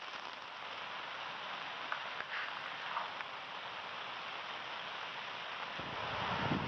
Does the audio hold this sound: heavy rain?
yes